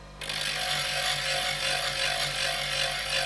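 A chisel ground on a bench grinding stone, held at a steady angle, gives a continuous loud abrasive hiss and whine over a low motor hum, starting abruptly and running steadily throughout.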